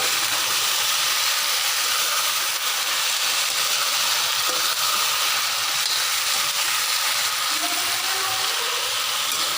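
Vegetables hiss in hot oil seasoned with asafoetida, a continuous loud, broad steamy sizzle that holds fairly even throughout without pauses, heard close with no talking.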